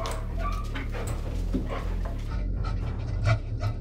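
A trained detection dog pants rapidly and steadily at close range in a training room of odor boxes, with a few faint whimpery breaths and no talking.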